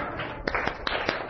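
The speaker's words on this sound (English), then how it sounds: "Come on, clap for her" A class of students clapping for a classmate, several short bursts of hand claps in quick succession, close and moderately loud in a small room.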